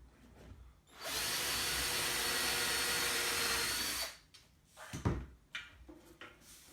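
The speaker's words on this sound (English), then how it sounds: "we're going to drill that hole all the way through" A power drill bores a hole straight through an IKEA Lack table leg, a steady loud whir for about three seconds, bracketed by quieter handling knocks and clatter.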